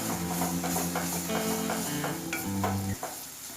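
Beetroot halwa being stirred in a heavy-bottomed kadai with cardamom powder and sugar added, a spoon scraping and swishing through the thick mixture in steady strokes under a soft sizzle.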